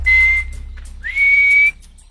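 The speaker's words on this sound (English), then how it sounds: "Those at the camp are now whistling to reach out to their friends who have gone on a morning honey hunt" Hadza people at a camp whistle out to friends away on a honey hunt: two loud, piercing sustained whistles, the second rising into a long high tone, separated by a brief gap.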